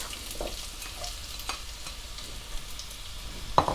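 Onions frying in oil with whole garam masala for a green spicy mince curry, a soft steady sizzle with occasional light stirring scrapes and one sharper clink near the end.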